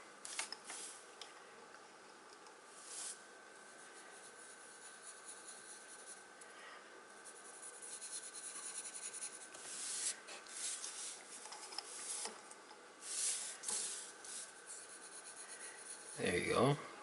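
Colored pencil rubbing and scratching over paper slick with baby oil, a close, soft papery scrape in steady strokes that grows busier and louder toward the end, with no voices.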